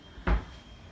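A closet door in a two-bedroom ocean-view resort condo at Daytona Beach gives a single short, fairly close thud or clack as it opens, alone in a quiet room.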